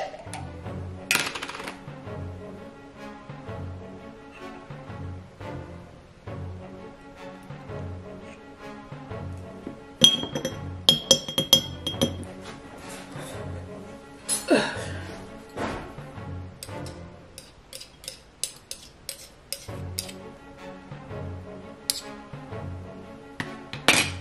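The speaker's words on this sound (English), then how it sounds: "Stir this up, even though it didn't tell you to stir it up." A teaspoon of high quality jam being stirred in a glass for a home cocktail, quiet repeated clinks and taps of metal on glass in an uneven rhythm, with a brief louder rattle midway.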